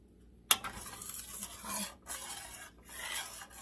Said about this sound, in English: Just keep working it, just keep stirring it